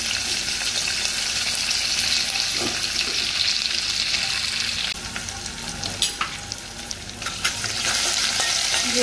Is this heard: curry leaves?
yes